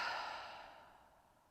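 One long, soft exhale fades out over about a second and a half during a yoga pose, close and quiet with no talk.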